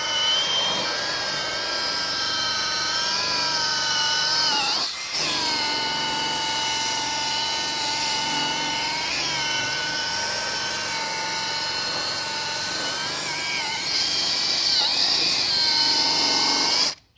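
A bench buffer spinning at 2,500 RPM polishes dull aluminum to a mirror shine, giving a loud, steady high-pitched whine with tonal harmonics that dips briefly once and then carries on alone for most of the run.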